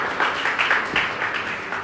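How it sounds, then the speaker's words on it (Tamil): A church congregation claps their hands together in a brief burst of applause, a dense, moderately loud patter of many palms under faint voices. "கைத்தட்டி ஒரு ஆமென் சொல்லுங்க"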